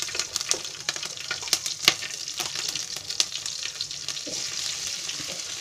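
Mustard seeds, cumin, cloves, cinnamon and green chilli sizzling and crackling in hot oil for dal fry, a steady close frying hiss broken by sharp pops and spatters, with no voices.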